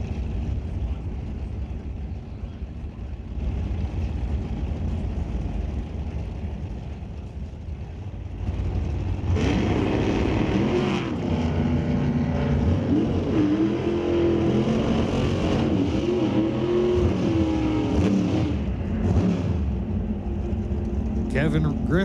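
At a drag race, a red 1957 Corvette Roadster and a 1923 Ford Roadster race. A low idling rumble gives way to loud, rising engine roars and revving that build and hold through the run, with commentary over them.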